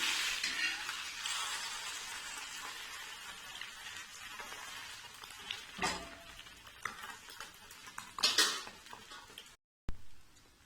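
A masala omelette fries in a pan, a soft sizzle fading over time with a few utensil scrapes and clicks as it is flipped, no voices.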